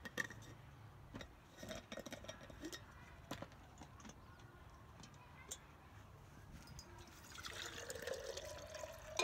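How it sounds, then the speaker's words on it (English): Water poured into glass jars, with faint trickling and small glassy clinks that build into a fuller, rising pour toward the end over a quiet room background. "I'm going to start with filling them up with water."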